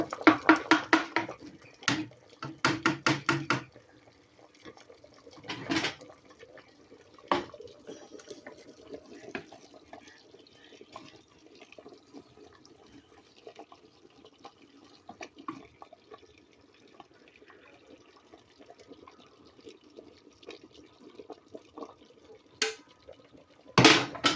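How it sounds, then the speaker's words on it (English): Roux goes into a pot of cooking beef tripe, with a flurry of sharp clinks and scrapes of utensils on cookware at the start, then soft liquid sloshing, drips and occasional knocks through a quiet kitchen. "here is where we put the roux into the tripe"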